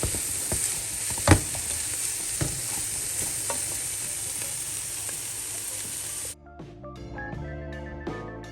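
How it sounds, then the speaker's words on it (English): Broccoli, onion, garlic and carrot sautéing in a pot, a steady close sizzle with stirring scrapes and clinks, giving way at the end to a brief musical passage. "just keep on sauteing this for about another minute"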